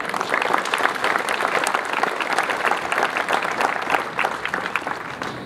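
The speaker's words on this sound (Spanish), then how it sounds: "Un aplauso para él." Applause from an audience at a municipal centennial ceremony in Honduras, a continuous crackle of many hands clapping at moderate distance, steady throughout with no speech over it.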